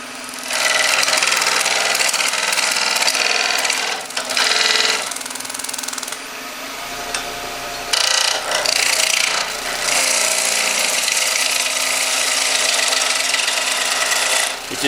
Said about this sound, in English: This is called a peeling cut, and all I'm doing is taking the end off.